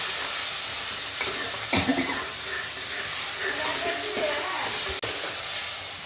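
Masala sautéing in a pan for mutton kolambu, a steady close hiss and sizzle with a few scraping stirs, while a voice speaks faintly underneath.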